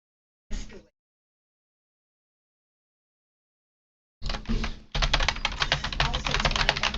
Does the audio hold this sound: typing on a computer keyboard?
yes